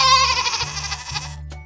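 A goat kid gives one close, wavering bleat that fades out, followed by a brief soft click.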